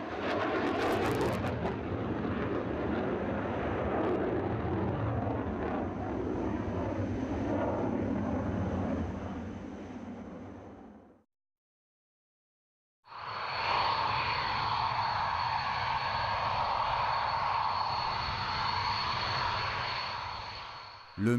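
A Dassault Mirage 2000 fighter's jet engine roars steadily and loud, broken by a sudden two-second silence before the dense roar resumes with a sharper high whine.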